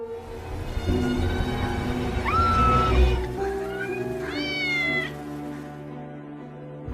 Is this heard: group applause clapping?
no